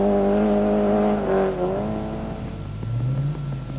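Engine of a Peugeot 205 rally car during a rally stage, rough and uneven with misfiring as it picks up again, steady loud droning with shifting pitch and no talk.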